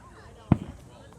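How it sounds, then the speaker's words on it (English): A single fireworks explosion: one sharp, fairly close boom that rises out of quiet background noise and decays quickly. "fireworks. Got it."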